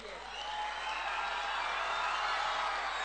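A crowd in a pandal at a political rally applauds, a steady wash of clapping that holds at an even, moderate level without a break.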